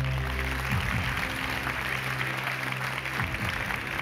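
Audience applause at a Quran recitation contest, a steady wash of clapping from a crowd that stays even and dense throughout, with a low hum underneath.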